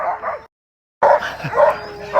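A dog barks in a short series of close, loud yaps, with a brief silent gap before more barking and a small whimper.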